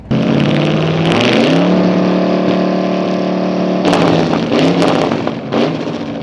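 Antique drag racing cars, one a Cadillac, launching down the strip: loud, close engines roar and rev with steady harmonic drone, then climb in pitch as they accelerate away, with a second burst of revving near the end.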